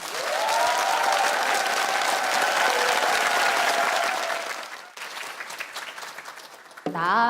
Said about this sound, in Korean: 여러분의 큰 박수로 그 무대 열어보도록 하겠습니다